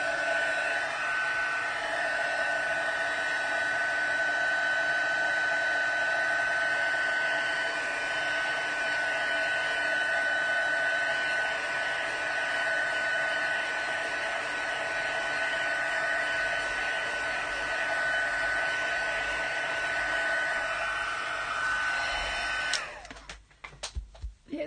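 A heat tool blows steadily at close range to dry embossing paste on a card, holding one continuous loud whir for over twenty seconds before it cuts off, followed by a few faint clicks and handling noises.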